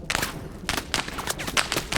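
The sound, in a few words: sniper gunshot in video game ArmA 3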